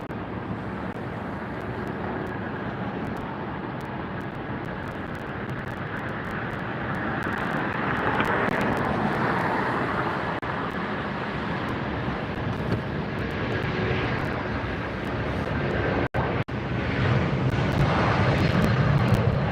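Jet airliner taking off from LAX, a steady loud roar of engines building and swelling as it accelerates down the runway and lifts off, with some wind buffeting on the microphone.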